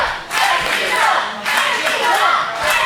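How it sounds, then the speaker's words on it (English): Wrestling arena crowd roaring and cheering loudly, fired up after a big match moment, a dense sustained wall of voices that swells in waves with no single voice standing out. "Listen to this. The crowd here is fired up."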